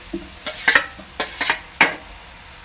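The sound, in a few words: tomatoes added to frying onions, sizzling and stirring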